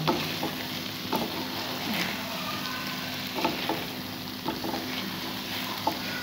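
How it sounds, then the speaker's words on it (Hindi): Eggs being stirred into a sizzling potato masala in a pan, a steady frying hiss with soft scrapes and occasional taps of the spoon, close and even in level. "अब हम इसमें डालेंगे अंडे, बिस्मिल्लाहिर्रहमानिर्रहीम, और इसे अब हम मिक्स करेंगे।"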